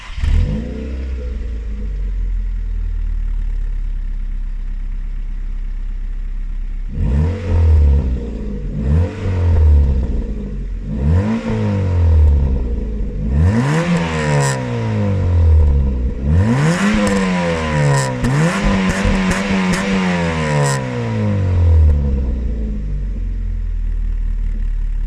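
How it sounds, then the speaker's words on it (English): Ford Fiesta MK5 Zetec S with a de-resonated centre exhaust section, idling and then revved repeatedly, each blip rising and falling in pitch with a raspy, close-up exhaust note. "we have a de-resonated centre section, and I'll show you guys what that sounds like now."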